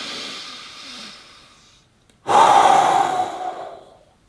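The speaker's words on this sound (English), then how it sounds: "Breathe forcefully." Two forceful breaths close to the mic, a softer exhale that fades, a brief pause, then a loud, sustained rushing exhale.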